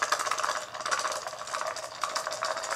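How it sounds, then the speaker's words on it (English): Dice rattle continuously inside a cup, a busy clattering shake with brief pulses of louder knocking, close and alone. "It's that noise of putting some dice in a dice cup."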